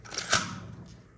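Film camera shutter being cocked and released: a couple of short mechanical clicks, the second sharper and louder snap, close by with no talk.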